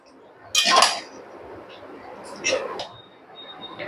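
A spoon mixes onion paste into chicken korma in a home-cooking pot, giving two short bursts of scraping and metal clinks against the pan, the first louder, over a quiet background.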